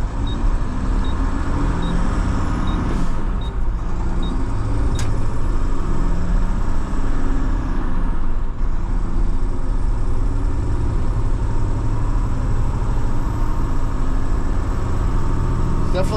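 A Mack truck with an mDrive automated transmission climbing a hill, its engine droning steadily and loudly from inside the cab throughout, with a brief shift-like dip partway through and no one speaking.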